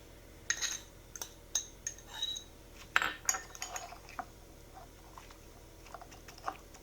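A fork stirs boiled dressing in a cup, making a series of light irregular clinks and taps of metal on the cup with soft wet stirring in between, close and quiet, no talking.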